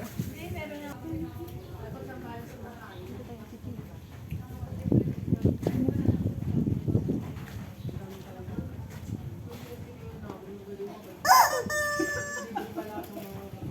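A chicken clucks amid a busy outdoor crowd at People's Park in Tagaytay, with people chatting throughout and a sharp squawk near the end.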